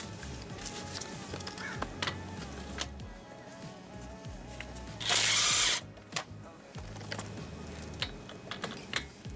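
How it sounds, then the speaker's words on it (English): A ratchet working the 19mm front brake caliper bolts on a Cadillac Escalade: close, rapid clicking ratchet strokes in short bursts, with one louder whirring burst in the middle, no speech. "We're going to take the two 19mm bolts off first."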